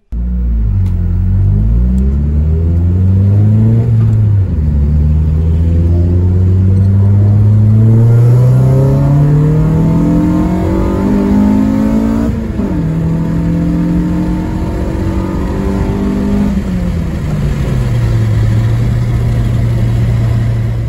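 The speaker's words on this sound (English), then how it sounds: "I even did a sound clip test to hear how the car sounds before the ITBs" A car with a Honda K20A3 engine on stock intake and exhaust revs repeatedly, climbing and dropping in pitch through a series of loud pulls, close and continuous with no talking.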